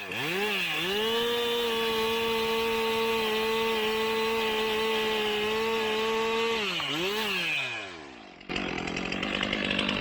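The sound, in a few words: chainsaw cutting the hinge of a felled tree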